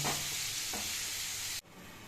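Marinated chicken pieces frying in a little ghee or butter for a healthy rice dish, a dense close sizzle with a stir that cuts off abruptly near the end.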